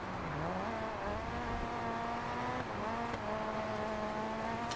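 Race cars in the video game Dirt 4, a steady engine drone with shifting pitch as the car accelerates and changes gear, plus faint tire and gravel noise, continuous with no talk.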